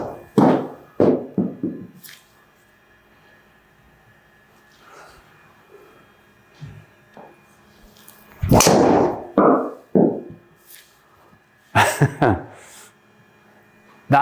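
Several sharp impacts of a PING G440 SFT driver striking golf balls on a range, each crisp crack standing out loud and close, with a person talking between the shots.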